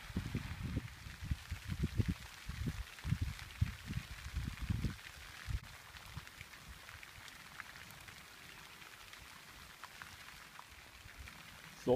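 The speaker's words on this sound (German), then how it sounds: "morgens um 7 auf dem Blumenfeld und es regnet leicht" Light early-morning rain falls on a flower field, a soft steady patter with denser low drumming in the first few seconds before settling into a quieter, even hiss.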